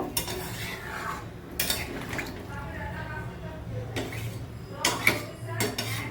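A utensil scrapes and stirs masala chicken with water in a metal wok, with intermittent clanks, over a low background hum.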